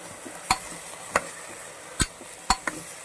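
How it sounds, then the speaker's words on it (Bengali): Potatoes frying with cumin and green chili are stirred in a pan, five sharp scraping knocks of a spatula spaced unevenly over a faint, steady sizzle, with no talking. "আলুটাকে একটু নাড়াচাড়া করে"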